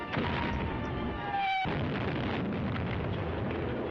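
A loud, sustained rumbling roar of heavy gunfire fills the scene, with a brief break and a whistling tone before the blast noise continues.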